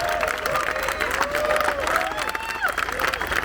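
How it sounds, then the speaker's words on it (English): An outdoor crowd at the Ground Up Music Festival in Alberobello, Italy, claps and cheers in a continuous wash while a voice talks over the noise. "Applause for yourselves."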